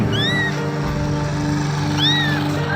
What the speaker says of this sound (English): People heard a small blinded kitten crying